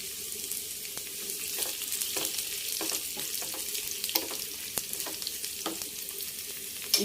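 Dried red chillies frying in hot oil for a tempering for onion gongura, a close, steady sizzle with a stream of sharp crackles and pops and no talk.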